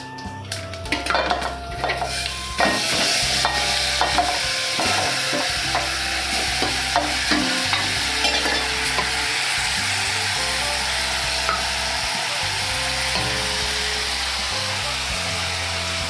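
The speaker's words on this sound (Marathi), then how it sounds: "व्यवस्थित ढवळून घेऊया." Stirring diced mango into a pan with a hot spice tempering for mango raita: repeated scraping and clinking of a spoon against the pan over a continuous frying sizzle, close and moderately loud, with no talking.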